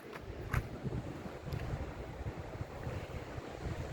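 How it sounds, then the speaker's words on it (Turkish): Rough sea surf rolls and crashes continuously in bad weather at Kilimli Cove, Turkey, mixed with gusting wind buffeting the microphone; no voices. "Hava kötü, deniz kötü dalgalı."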